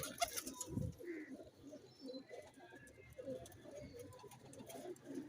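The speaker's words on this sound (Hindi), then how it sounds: "ये कबूतर उड़ाने वाले कबूतर हैं, ब्रीडर हैं" Teddy pigeons, flying and breeding birds, coo softly and steadily close by, with a faint chirp and some rustling in the background.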